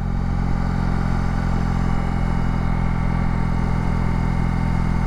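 Heavy BMW R18 Transcontinental cruiser motorcycle (2022) engine running steadily while riding, a continuous low, dense rumble with constant loudness and no talk throughout.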